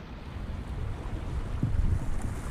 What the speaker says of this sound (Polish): Dobrze, że trochę tego wiatru jest